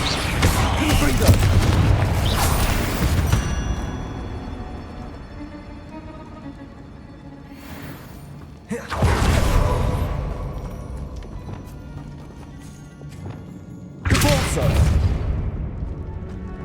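Three loud, booming fire-blast impacts from the Confringo spell in Hogwarts Legacy erupt with long roaring tails, spaced several seconds apart over a quieter background of game ambience.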